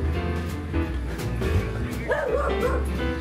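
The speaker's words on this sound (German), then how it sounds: "Werner fährt mit seinen Hunden aus, Max und Bobo." Dogs barking and yipping in the morning as their owner drives out with them, the calls mixed into a loud, steady engine or vehicle rumble.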